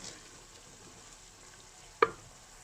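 Onion, ginger and garlic frying in a pan for aloo keema, giving a steady, soft sizzle throughout with a single sharp clink near the end.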